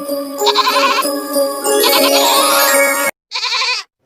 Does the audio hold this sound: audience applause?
no